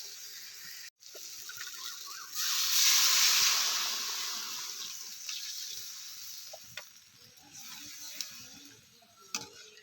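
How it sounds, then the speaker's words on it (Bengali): Water poured into a hot pan of spiced pomfret and potato curry, a soft hiss that swells suddenly, then fades slowly to quiet bubbling, with a few faint clicks of utensils. "এটা ভালো করে কষানো হয়ে গেছে এবার আমি জল দিয়ে দেবো"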